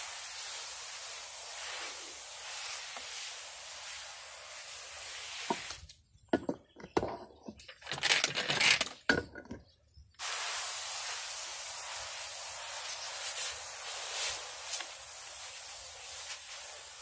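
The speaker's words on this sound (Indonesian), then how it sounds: "ini juga tetap kita semprot." A sprayer mists banana plants being treated for leaf spot disease, producing a steady close hiss that breaks off midway for several seconds of clunks and short bursts, then resumes just as steadily.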